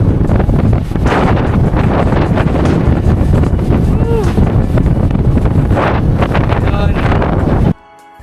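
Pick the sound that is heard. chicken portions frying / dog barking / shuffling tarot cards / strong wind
strong wind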